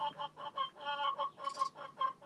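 Rhode Island Red hens cluck in short repeated bursts, a steady broken rhythm of close, moderately loud calls with a brief higher squawk partway through, heard in an outdoor garden.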